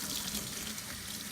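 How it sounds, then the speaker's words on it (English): A kitchen tap runs steadily while hands are washed before baking cookies, giving a constant close hiss of flowing water with no talk. "turn the water on"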